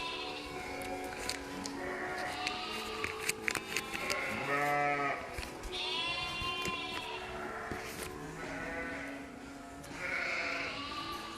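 Sheared ewes on an Ontario sheep farm bleat repeatedly in their shelter. Several loud, wavering calls from more than one animal overlap at close range against a low background murmur.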